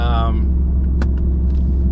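A supercharged Ford F-150 pickup truck with a lift kit and large wheels and tires, its engine holding a loud, steady, deep rumble close by, with a person speaking over it at the start.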